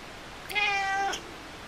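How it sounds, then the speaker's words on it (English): A pet cat gives a single clear drawn-out meow, close and loud, over a quiet indoor room. "I will get meowed at until I get out of bed"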